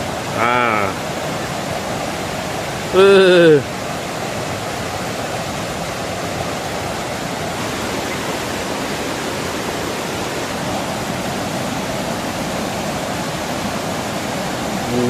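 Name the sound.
fast-flowing forest stream water at Edu-Forest UPSI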